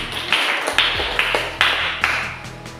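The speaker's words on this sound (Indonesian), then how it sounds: "beri aplaus untuk kelompok 2" A few sharp claps and taps for a student group, spaced in short bursts rather than sustained applause, close and fairly loud.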